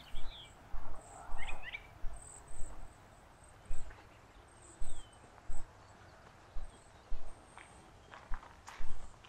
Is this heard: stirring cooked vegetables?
no